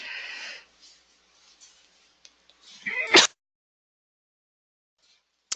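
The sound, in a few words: sneeze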